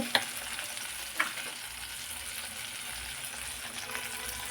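Green chillies frying in a pan with a little salt, for a homemade pizza recipe: a steady broadband sizzle with two brief scraping stir clicks near the start, fairly close and continuous, no voices.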